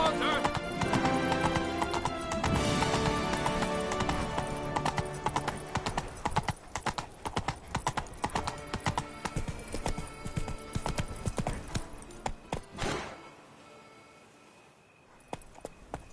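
Horse Roach galloping in The Witcher 3, rapid rhythmic hoofbeats with a whinny, loud and close before slowing and fading near the end, with a voice speaking over it.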